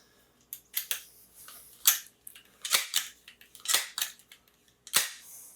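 Repeated pump strokes on a Crosman 2289 air pistol fitted with a steel breech: about eight sharp mechanical clacks and swishes at an uneven, steady pace, close and fairly loud, with no talking.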